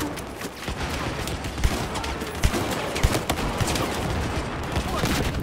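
Shotgun blasts from Battlefield 4 gameplay on the Operation Locker map, several sharp reports at irregular intervals over a dense, busy backdrop of other gunfire and battle noise.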